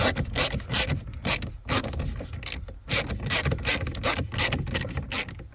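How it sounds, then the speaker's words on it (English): A ratchet clicks in rapid bursts while turning a bolt during removal of a Mk4 Škoda Fabia dashboard, a close rhythmic metallic ticking in short back-and-forth strokes with faint rubbing between them. "turn it one-handed with the ratchet"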